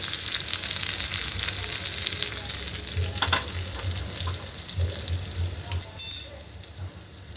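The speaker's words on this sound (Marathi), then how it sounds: "फोडणी तयार झालेली आहे" Hot oil tempering (phodni) for besan and rava dhokla sizzles in a steady, close hiss, with a few stirring sounds and a light clink near the end.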